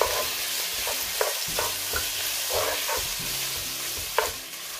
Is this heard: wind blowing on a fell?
no